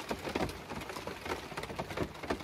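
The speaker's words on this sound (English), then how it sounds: "you can hear the rain coming down" Heavy rain patters on a camper truck's roof during a windy night, a dense, sporadic drumming of drops heard up close and fairly soft, with no talking.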